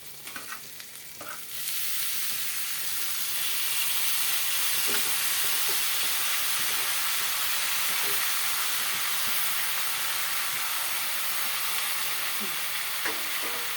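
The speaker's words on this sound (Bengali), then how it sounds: "এখন আমি এর মধ্যে এটা দিয়ে দিব পোড়ানো পেঁপেটা" Roasted papaya goes into a hot pan with spices, potato and peanuts. After a brief quiet start, a loud, continuous sizzle and hiss takes over, with occasional light stirring clicks.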